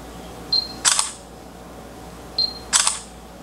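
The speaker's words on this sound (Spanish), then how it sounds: "no hay ninguna opción que me permita quitar el sonido del obturador" Samsung Galaxy S3 Mini i8190 phone camera shutter firing twice, each a short high focus beep followed by a crisp two-part mechanical click, close and clear against a quiet background.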